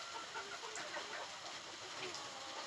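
Young bantam hens cluck softly in a farmyard pen. The clucks come as scattered calls under a dense, steady wash of broadband background noise.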